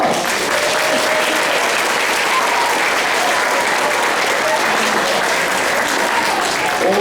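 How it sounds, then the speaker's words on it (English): An audience at a first grade school program claps loudly and steadily, a dense, unbroken wash of applause from many hands that holds at full strength throughout. "Let's give them one more round of applause."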